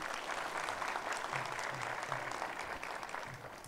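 A crowd at a community gathering claps steadily to welcome a guest, a dense, even patter of many hands heard at a moderate distance, fairly quiet overall.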